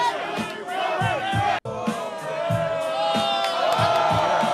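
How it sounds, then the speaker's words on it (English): A crowd loudly jeers and shouts at a rapper, dense and sustained, with a brief dropout partway through and a few voices rising above the roar. "Oh, no, they're like booing his him."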